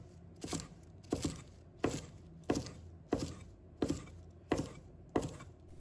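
A knife chops green onions into short pieces on a board. Crisp, close thuds come at a steady pace of about one per second, eight strokes in a row, with no talking.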